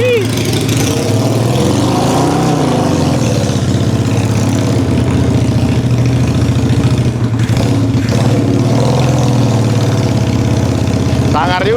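A new motorcycle's engine idles steadily and loud close by for the whole stretch, a low throbbing rumble that never lets up, with people talking over it.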